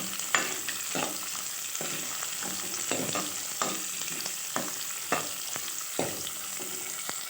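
Small onions sautéing in a pan for Tamil bitter gourd kulambu, a steady close sizzle broken by repeated scraping stirs at irregular intervals, with no talk.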